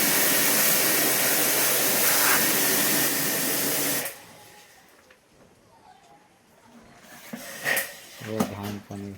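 An air conditioner blower runs loudly during servicing, a steady broadband rushing hiss that stops abruptly after about four seconds, followed by quieter clattering and brief sounds nearby.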